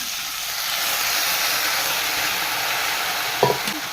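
Onion, chili and jackfruit being stirred in a hot pan: a steady, close sizzling hiss runs throughout, with a brief scrape or clank of the spoon near the end and no talking.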